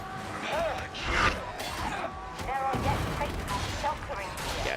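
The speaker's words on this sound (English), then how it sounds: "Yeah, it's just a stun grenade." Stun grenade going off in the video game Darktide, a blast followed by crackling, ringing game effects and clatter, with players' voices over the top.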